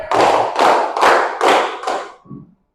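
Hands clap out the tepuk tabligh rhythm in a group clapping game: five evenly spaced, fairly loud claps from several people together, followed by a softer final thud, with no talking.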